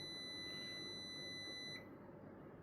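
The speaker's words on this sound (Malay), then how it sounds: "Okey, so terdapat bunyi buzzer." A digital multimeter in continuity mode emits a steady high-pitched electronic buzz for nearly two seconds, then cuts off abruptly, leaving quiet background hum with no talk.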